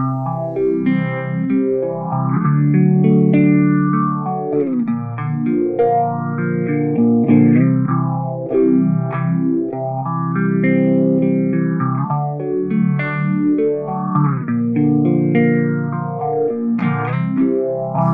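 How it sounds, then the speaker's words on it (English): Guitar through a BOSS PH-3 phase shifter on a vintage-style light phaser setting, held chords swept by a slow, regular whooshing phase, loud and steady with no talk. "this is going to give you that vintage light phaser effect"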